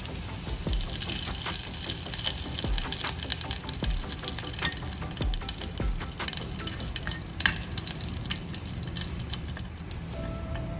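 Two large bay leaves simmer in a pot over a low flame, giving a steady, soft bubbling and sizzling with faint watery gurgles throughout and no voices.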